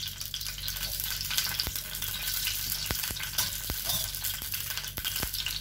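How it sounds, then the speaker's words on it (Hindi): Desi ghee sizzling and frying steadily in a hot pan for a tadka, a continuous close crackle with sharp pops and clicks scattered through it and no talking. "और उसमें मैं देसी घी डाल रही हूँ।"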